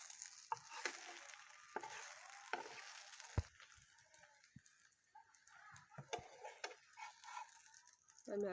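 Oil sizzles and hisses on a hot tawa while ruti flatbread cooks, a steady frying crackle that is strongest at first and then fades, with a voice talking over it.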